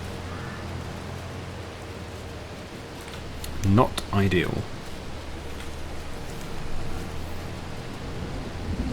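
Rain in Farming Simulator 22 keeps up a broad, even wash of noise throughout, with a low rumble underneath, while someone speaks briefly over it.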